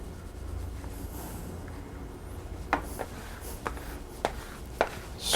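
A plastic glue-spreader scraper works brioche dough out of a bowl, a soft background rub followed by several sharp scattered scrapes and taps close by.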